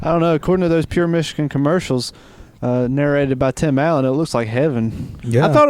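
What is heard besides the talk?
None of the usual background noises is heard.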